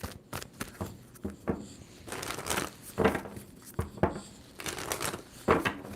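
A deck of tarot cards being shuffled up close, giving a series of soft riffling and crinkling bursts in an uneven rhythm, fairly quiet, with no talking.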